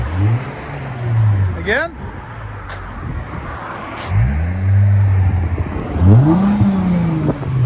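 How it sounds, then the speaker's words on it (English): A 2018 Lexus GS 350 3.5L V6 with rear muffler delete revs loudly up close, three rising exhaust sweeps with a brief pause between them, while a person speaks briefly in between. "Lexus GS350 rear muffler delete."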